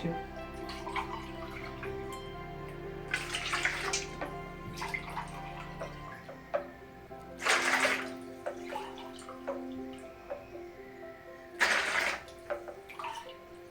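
Warm water is poured from a tap into a container while bread dough is being prepared. Splashing bursts come and go over a low hum, with a few drips in between.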